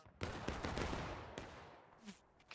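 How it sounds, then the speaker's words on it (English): Musket volley in the Civil War video game War of Rights at the Burnside Bridge map, a dense burst of overlapping loud shots followed by a sharp single report and fainter scattered fire. "Shots."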